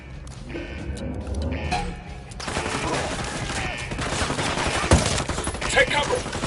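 Gunfire rattles through a firefight in the video game Ghost Recon Wildlands, loud and dense, with bursts building after a quieter opening and a sharp crack near the end, while voices call out beneath the shooting.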